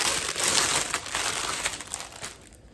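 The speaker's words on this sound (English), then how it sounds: "Sorry about the crinkling." Plastic packaging around a small yarn sample crinkles and crackles close by, a busy rustle that fades toward the end.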